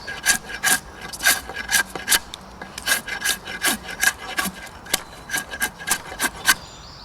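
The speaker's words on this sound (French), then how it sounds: "Je peux planer d'abord sur les côtés, ce qui facilitera mon travail." A drawknife planes a piece of wood clamped on a shaving horse, giving steady rhythmic rasping strokes, close and fairly loud, repeating about twice a second with no voices.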